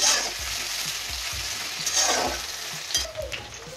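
Onions fry with ginger garlic paste in hot oil, a loud, continuous sizzle close by, with soft stirring scrapes rising briefly toward the end.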